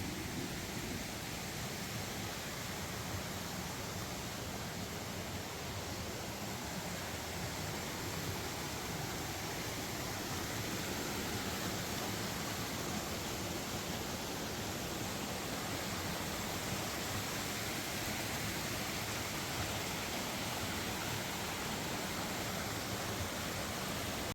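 Manpilavu Waterfall roars steadily and continuously, a dense unbroken rush of water with no other sounds breaking through.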